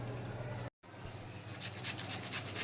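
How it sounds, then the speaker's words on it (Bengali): Raw carrot and potato are grated by hand, with soft scraping rasps that turn into a quicker run of rhythmic strokes, close but faint. "বন্ধুরা গাজর ঘষে নিয়েছি এবার আলুটা ঘষে নিচ্ছি"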